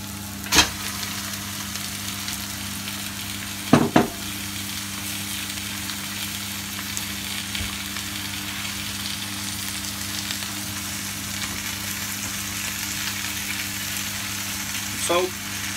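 Lamb meat fries in a pan for Persian ghormeh sabzi, giving a steady, close sizzle with a few sharp clinks and clatters from the utensils.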